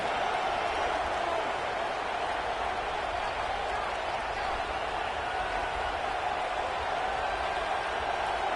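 A large college football stadium crowd before kickoff in a game against Alabama, producing a constant, dense roar of massed voices and cheering that holds steady throughout, with indistinct voices mixed in.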